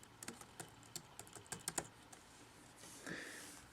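Quiet typing on a Mac computer keyboard: a quick run of light key clicks in an irregular rhythm, close and soft, ending in a brief hiss-like noise.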